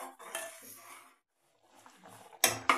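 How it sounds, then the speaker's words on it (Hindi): A spoon stirring kheer in a metal cooking pot, with scraping and clinking in short bursts separated by a brief silence, then two sharp knocks against the pot. "खीर को जो है हम चलाते रहेंगे, वरना खीर जो है नीचे भगोने में चिपकने लगेगी"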